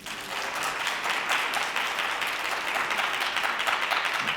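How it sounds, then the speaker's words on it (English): Warm, steady applause from a brunch audience of school principals and vice principals welcoming the mayor of Newark, many hands clapping continuously at close range. "Let's give a big round of applause to our mayor."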